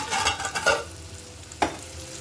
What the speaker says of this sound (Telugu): పచ్చిమిర్చి ఉల్లిపాయ ఇప్పుడు ఒకసారి తిప్పుకున్నాం సార్